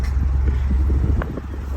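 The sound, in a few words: old car engine starting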